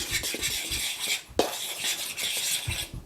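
Dry flour, unsweetened cocoa powder and salt being stirred together in a bowl for skillet brownies: a steady run of soft scraping strokes with a few light utensil clinks against the bowl, close and fairly quiet, with no talking.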